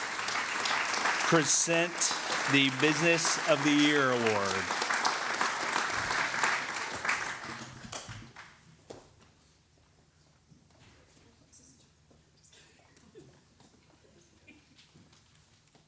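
An audience at a chamber of commerce holiday gala and awards night breaks into loud sustained applause with cheering while a voice speaks over it, then the clapping fades out to near quiet.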